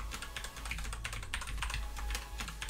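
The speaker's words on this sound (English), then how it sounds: "I'm going to type in my own password" Someone typing a password on a computer keyboard: a quick, steady patter of close key clicks, fairly quiet, with no talking.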